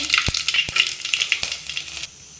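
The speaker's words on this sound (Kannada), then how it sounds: "ಈಗ ಒಂದು ಮೆಣಸಿನ್ಕಾಯಿ ಹಾಕ್ತೀನಿ ಒಗ್ಗರಣೆಗೆ" A chili drops into hot tempering oil for vegetable sambar and crackles in a quick run of close sizzling pops and sharp ticks, then quiets after about two seconds.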